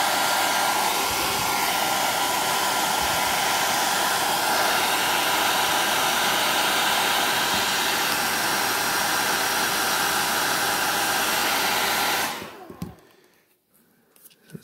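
Heat gun blowing on an action figure's neck joint, a loud steady roaring whoosh that runs continuously for about twelve seconds, then cuts off abruptly and leaves quiet handling noises.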